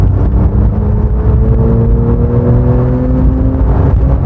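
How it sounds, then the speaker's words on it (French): A Porsche 911 twin-turbo engine revving, heard from inside the car: a loud, steady, rising engine drone with turbo whir, holding for several seconds with no talk. "ça fait un bruit de turbo et ça fait des pops qui sont incroyables"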